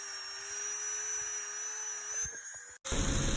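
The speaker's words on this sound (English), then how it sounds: "take a barrel sander flapper wheel" A high, steady whine of a flap wheel sanding an axe head, running continuously, with faint scraping against the metal, then a brief cutoff and restart.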